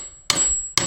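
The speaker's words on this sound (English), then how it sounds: "we're going to go ahead and hammer these back into place" Two sharp metallic hammer blows, spaced about half a second apart, tapping car u-joint parts back into place, each ringing briefly with a bright clang.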